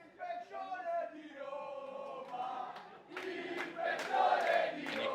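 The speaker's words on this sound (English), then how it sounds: "Hear the crowd chanting the Emperor of Roman Wrestling" Crowd at a live pro wrestling show in a Rome venue chanting a wrestler's name, rhythmic voiced chants rising in intensity, with a commentator's voice mixed in.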